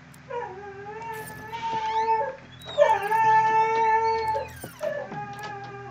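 A blind dog howls and whimpers in long, wavering, tonal cries that rise and fall in three loud bouts close to the microphone, with brief pauses between them.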